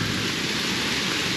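Heavy rain hammers on a tent during a thunderstorm while camping near Zurich, a dense, loud, continuous roar of drops with no voices.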